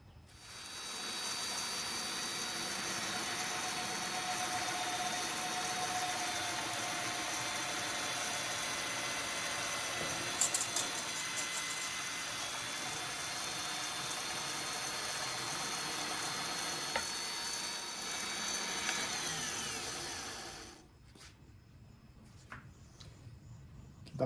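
A power drill boring holes in iron, a steady loud whir that runs unbroken for about twenty seconds before stopping, followed by a few faint clicks and knocks.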